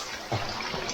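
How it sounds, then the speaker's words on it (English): The Risco Waterfall in Madeira gives a steady, full rush of falling water with a brief louder surge partway through, heard close and without pause. "This is the Risco Waterfall."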